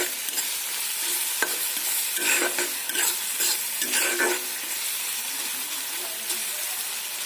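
Onions browning in a pan sizzle with a steady, close hiss, broken by several scraping stirs of a utensil, with no talk.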